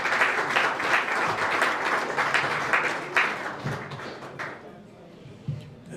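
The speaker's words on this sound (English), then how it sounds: "So another big round of applause for her." Audience at a parliamentary celebratory luncheon applauding, dense clapping that gradually thins out and fades to a few scattered claps.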